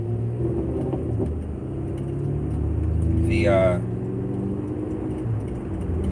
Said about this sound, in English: Ooh, there's a Chevy. It's a Chevy Cobalt SS.